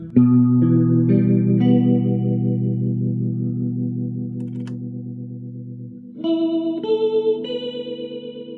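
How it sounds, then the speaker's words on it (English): Electric guitar notes ring through a wavering, pulsing vibrato pedal effect, sustained and warbly, then a new higher phrase enters near the end. "Here's a vibrato."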